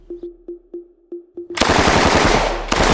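A Steyr AUG light machine gun fires at paper silhouette targets downrange, first several spaced single shots, then a loud sustained automatic burst ending in a final sharp report.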